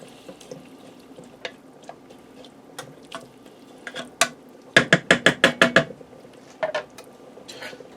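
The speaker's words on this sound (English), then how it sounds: "We're going to get that down into our soup. Give that a stir." A spoon stirs fresh broccoli florets into cheddar soup inside a pressure cooker pot, giving scattered wet clinks and scrapes, then a quick run of six sharp metallic knocks in a row, and a few last taps.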